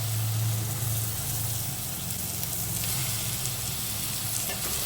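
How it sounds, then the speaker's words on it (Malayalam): Onions fry in a pan for chicken curry as tomatoes are added, producing a continuous, close sizzle with a faint bubbling undertone and no voices. "അപ്പം ഉള്ളി കുറച്ച് വരണ്ട്, ഇനി നമുക്കതിൽ തക്കാളി ഇടാം."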